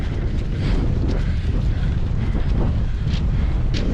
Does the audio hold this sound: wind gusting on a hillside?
yes